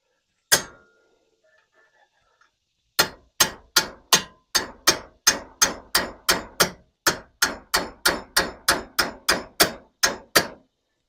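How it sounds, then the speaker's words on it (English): One sharp strike, a pause with faint rattling, then a steady series of loud metallic hammer blows at an even rhythm, close by, as a part is hammered into place on a 1996 Jeep XJ while fitting ball joints and hubs. "just hammer her home"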